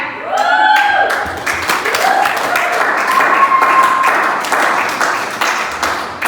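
Church congregation clapping steadily throughout, loud and close, with scattered voices and brief tonal sounds mixed in.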